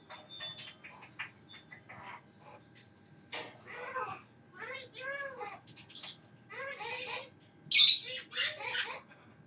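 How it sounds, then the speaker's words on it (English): A pet bird chatters inside its cage, producing squawks and speech-like warbling phrases in short bursts, close and clear against a quiet room, with one sharp louder screech near the end. "If you listen very quietly, you can hear Raven in her cage talking"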